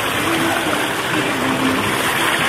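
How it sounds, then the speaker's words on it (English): Steady rushing splash of a small waterfall feature in a swimming area, a loud continuous wash of water with no break and no voices. "Here's the waterfall fun."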